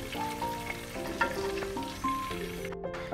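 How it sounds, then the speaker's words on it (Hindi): Raisins sizzle in hot oil while being fried for an Afghani pulao, a steady close crackle and hiss with occasional scrape-like stir sounds, no voices. "रेजन्स हमारी फ्राई हो चुकी है किशमिश,"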